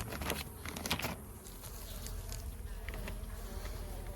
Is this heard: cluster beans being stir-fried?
no